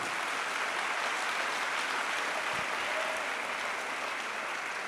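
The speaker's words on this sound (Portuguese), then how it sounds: "pode aplaudir o Senhor" Steady, dense applause from a large crowd at a church service fills the whole stretch, loud and continuous without letting up.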